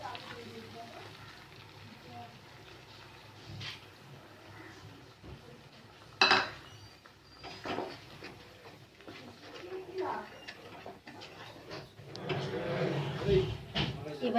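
A home-style doi katla fish curry simmers and sizzles in a pan as yogurt goes in, giving soft frying hiss, a sharp clatter, and stirring scrapes that grow busier toward the end, with someone talking over it.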